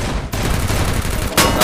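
Sustained gunfire rattles from a house in a shooter video game, a dense run of rapid shots that cuts off briefly, then resumes louder and brighter near the end.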